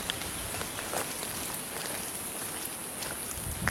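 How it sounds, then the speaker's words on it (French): Steady rain falls outdoors near old bunkers, a dense, even hiss of drops with scattered sharper taps, continuous and fairly loud throughout. "Ah, ça y est, la pluie se calme."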